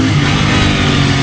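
A Royal Enfield GT 650 motorcycle engine, rated at 47 bhp, roars loud and close in one continuous revving burst with no talking.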